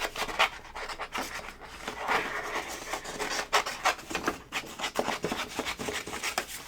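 Scissors trimming card stock for handmade cards, a close, continuous run of crisp snipping and rustling paper at an uneven rhythm, with no voice.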